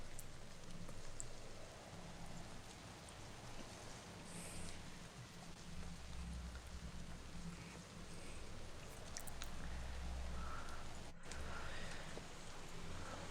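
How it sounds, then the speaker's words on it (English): Rain falls steadily outside a stone shelter, a soft continuous patter with a low rumbling undertone, heard quietly and without voices. "The wind and rain still howls outside, but at least in here it is dry."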